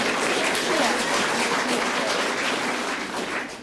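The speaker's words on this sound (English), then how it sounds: "They clapped as though it was a tenor solo" A television studio audience claps steadily for a few seconds, a dense, even wash of applause that tapers slightly at the end.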